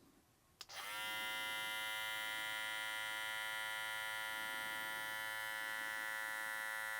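A BaByliss Tomb 45 hair clipper switches on at low speed and runs close up with a steady, loud electric buzz that holds evenly after a brief click at the start.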